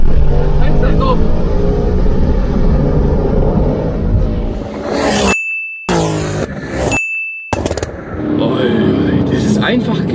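A 1300 PS Mercedes W205 C63 4Matic+ accelerating hard, a loud close engine roar broken by abrupt cuts during gear shifts, with a ding sounding twice and voices underneath.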